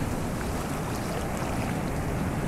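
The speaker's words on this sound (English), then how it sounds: "Some big waves coming in though." Big waves surging onto Kata Beach, Phuket, in low season, a constant broad roar of surf and wind filling the whole stretch, loud and unbroken, with no voices.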